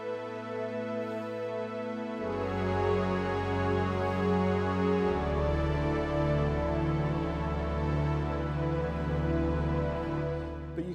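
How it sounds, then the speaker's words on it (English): Sustained analog synth pad from a Korg Mono/Poly four-voice analog synthesizer, thick layered chords that change twice, held loud and steady throughout with no talking. "And it was great for kind of pad sounds like this."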